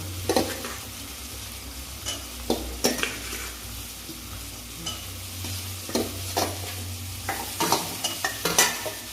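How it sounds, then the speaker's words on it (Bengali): Potato chunks and pointed gourd tossed into spice paste frying in oil for a Bengali prawn dish sizzle steadily up close, with repeated spoon-against-pan scrapes and clatters as they are stirred, no talking. "এখন দিয়ে দেবো আলু আর পটল একসঙ্গে দিয়ে দেবো।"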